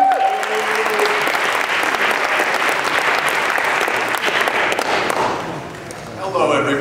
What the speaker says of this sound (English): Give it up to Dominic Holt